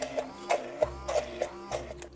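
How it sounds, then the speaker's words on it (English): A hand blender whirs in short, rhythmic pulses while blending breakfast food in a kitchen, each burst a brief buzzing whine, repeated about eight times in quick succession at close range. "So I blend it."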